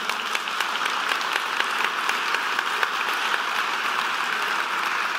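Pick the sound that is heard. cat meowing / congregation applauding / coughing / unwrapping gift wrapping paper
congregation applauding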